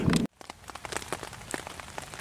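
Rain patters on a tent while someone sits inside. A loud burst of noise cuts off abruptly at the start, then scattered, close drops tap irregularly on the fabric.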